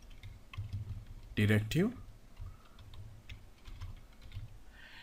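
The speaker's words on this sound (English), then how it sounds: "So right here I'll type 2 forward slashes and then type preprocessor" Computer keyboard keys click in quick, light bursts as someone types a code comment, with a voice speaking over the tapping.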